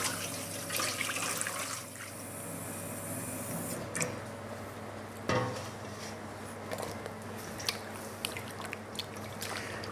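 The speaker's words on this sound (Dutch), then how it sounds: "We gaan een kom nemen en een klein beetje lauw water in doen." Lukewarm water runs steadily into a kitchen bowl, a continuous wash of splashing and trickling at close range with no voices.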